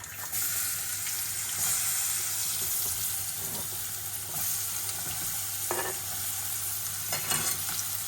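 Chopped onion frying in oil tempered with mustard seeds, cumin, dried red chili, asafoetida and turmeric, a continuous hissing sizzle with faint stirring scrapes and a steady low hum beneath.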